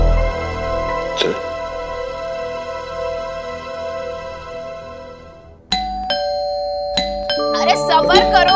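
A doorbell chimes in a ringing ding-dong pattern, pressed repeatedly in quick succession, with a sustained tone underneath and faint voices nearby.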